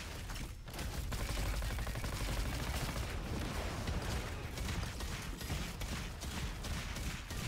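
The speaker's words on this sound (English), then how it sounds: "That's your weapon ricocheting." Rapid weapon fire ricocheting in a shooter video game, a dense, steady clatter of shots and metallic pings running continuously without pause at fairly loud level.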